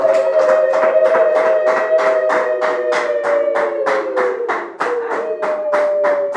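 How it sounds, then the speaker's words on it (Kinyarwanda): A worship congregation claps its hands together in praise, a steady, even beat of many claps over a sustained musical tone that carries across the whole stretch. "Turangire tugukomera amashyi menshi mu izina rya Yesu"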